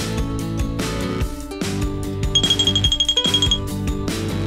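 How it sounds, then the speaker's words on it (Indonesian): A spoon clinks against a drinking glass as a table is laid for a meal, a quick run of bright, light metallic taps over cheerful background music. "Bunyi sendoknya suka deh."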